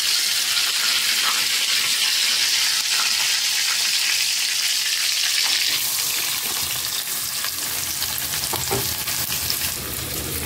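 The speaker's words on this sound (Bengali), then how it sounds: "তা আমি এখন বাগার দিব" Rendered meat fat from a pot of nihari-style paya sizzles loudly as onions fry in it for tempering, a continuous bright crackling hiss with occasional stirring scrapes near the end.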